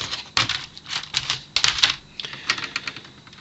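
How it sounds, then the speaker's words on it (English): Clicking and rattling from an HP dv8 laptop keyboard being lifted out, a close run of irregular snaps and taps with no talking. "Let's pull the keyboard out again."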